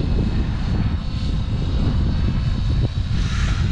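A Trex 550X RC helicopter climbs in rescue bailout mode outdoors, its rotor and motor giving a steady buzzing, whirring drone with fluttering low rumble and wind noise throughout, without talk.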